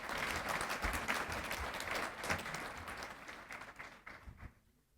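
A room full of people gives warm, sustained applause at a school employee recognition ceremony, dense clapping that thins out and fades toward the end.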